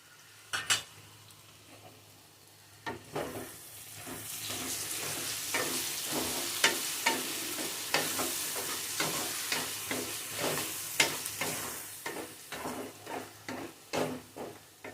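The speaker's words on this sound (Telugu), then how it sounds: "ఇప్పుడు దీంట్లోకి ఇందాక మనం గ్రైండ్ చేసుకున్నటువంటి పేస్ట్ వేసుకుందాం" Eggplant frying with a ground paste in a pan, a rising hiss of sizzling oil under a steady series of spatula scrapes and taps against the pan.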